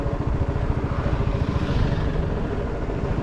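A motorcycle engine runs during a bike ride, a close, steady rumbling drone that holds at an even level throughout with no voices.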